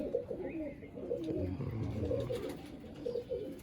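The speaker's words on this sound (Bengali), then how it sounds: "ভালো ফুলসেরা লাইনের পায়রা আছে" Pigeons in a racing pigeon loft coo steadily throughout, a dense layered murmur of overlapping low calls with no talking.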